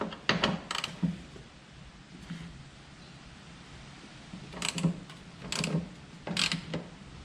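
A ratchet turns T45 Torx screws out of a saddlebag on a Harley-Davidson Softail Heritage Classic. Short bursts of close mechanical clicking and ratcheting come in two clusters, separated by a quiet stretch.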